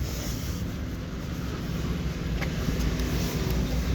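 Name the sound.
bus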